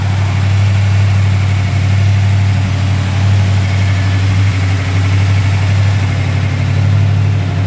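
A 1951 Ford F1 truck engine idles steadily with a lumpy cam lope, a loud, close, continuous low rumble with no talking.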